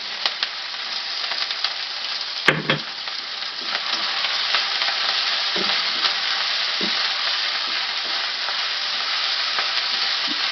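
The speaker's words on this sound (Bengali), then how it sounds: "মশলাটা ভালোভাবে কষিয়ে নেব। এর উপর আমি দিয়ে দিচ্ছি নারকেল বাটাটা।" Masala spice paste with coconut paste fries in a pan with a steady, close sizzle, punctuated by a sharp clank and a few soft stirring scrapes.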